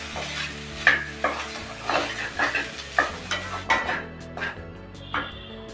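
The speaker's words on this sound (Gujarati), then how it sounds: "અને આપણે જે કેપ્સિકમ અને ડુંગળીને સાતડીને રાખ્યા છે તેને પણ આની અંદર એડ કરી દેશું અને બધી વસ્તુને સારી રીતે મિક્સ કરી લેશું" Sautéed capsicum and onion being stirred into a mixed vegetable curry, likely in a pot, with repeated scraping strokes against the pan over a soft sizzle; close and steady, no talking.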